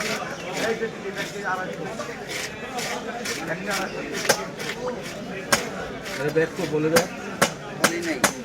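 A pangas fish is chopped into pieces at a busy Bangladeshi fish market, with repeated sharp blade strikes on a cutting surface. The chops come irregularly amid near voices and general market bustle.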